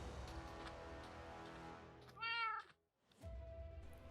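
A cat in the video game Minecraft gives one short, clear meow rising out of a steady bed of game background sound, with a brief silent gap just after it.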